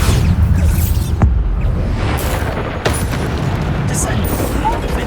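Booming spell blasts from Hogwarts Legacy combat, a dense roar of explosions and rumble running nearly continuously with a few sharper bursts, loud and close.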